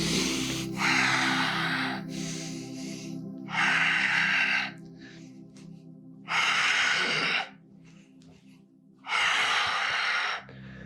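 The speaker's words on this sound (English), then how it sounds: "let's go for 4 more. Strong exhales." Forceful breaths push out through the nose during a yoga breathing exercise, four loud rasping exhale bursts at steady intervals, each lasting about a second and a half, close up with quiet pauses between them.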